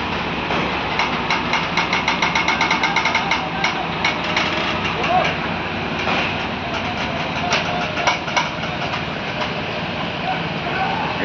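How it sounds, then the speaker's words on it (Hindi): A Volvo truck with a 520 engine and many axles rolls slowly through the Mehsana toll plaza on a bypass road, a steady low engine rumble with clanking and rattling knocks, heard amid roadside noise and background talk. "ये गाड़ी धीरे धीरे जा रहा है।"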